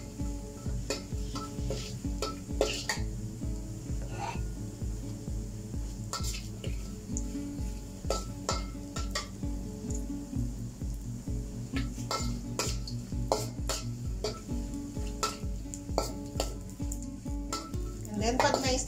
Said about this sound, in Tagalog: Stir fry lang natin siya ng konti.